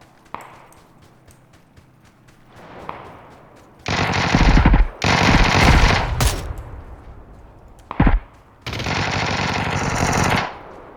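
Gunfire in the PUBG battle royale video game, including ATR rifle fire: loud sustained bursts of rapid automatic shots in several long strings, with a sharp single crack between them and quieter scattered shots earlier.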